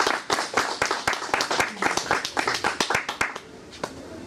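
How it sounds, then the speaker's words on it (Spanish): Applause at an evening lecture at the Instituto Gnóstico de Los Ángeles, a crowd clapping loudly in a fast uneven rhythm for about three and a half seconds before trailing off. "Lo recibimos con un fuerte aplauso"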